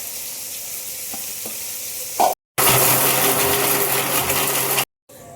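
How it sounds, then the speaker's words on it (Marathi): Lentils and coconut whirl in a kitchen mixer grinder, a loud, dense, steady roar in a short run, starting after a quieter hiss and stopping abruptly. "आता आपण ही डाळ आणि खोबरं मिक्सर मध्ये काढून घेऊया।"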